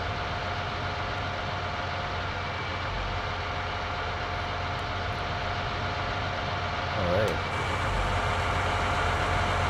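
A John Deere-style 7230 tractor engine idles with a steady low rumble and faint vibration, close by, with a brief spoken word and a small bump in level partway through.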